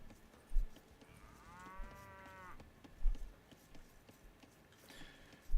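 A single cow moos in a video game, a drawn-out low call of about a second, set against a quiet game soundscape with occasional soft thumps.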